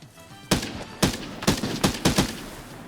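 Gunfire in an extraction shooter game cracks out as sharp, loud shots, a few single reports spaced about half a second apart followed by a quicker cluster of three.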